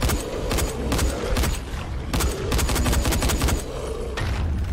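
Rapid bursts of automatic gunfire in the video game Dying Light, loud repeated volleys in quick succession with brief gaps between strings of shots.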